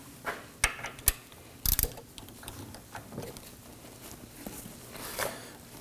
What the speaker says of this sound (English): let's put our ratchet on there and tighten this down